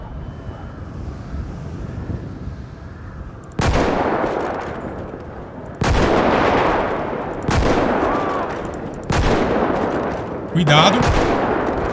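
Sniper rifle gunfire in GTA V zombies mode: four loud, sharp shots spaced a couple of seconds apart, each with a long ringing tail, over a windy background, with a brief voice speaking between shots.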